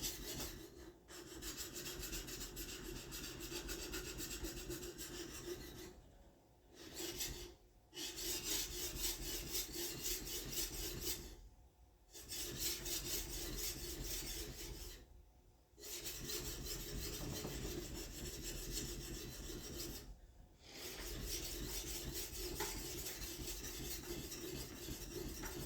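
Repeated rasping strokes of a draw knife being sharpened on a fine sharpening plate, long steady rubbing passes broken by brief pauses, close and clear with no talk.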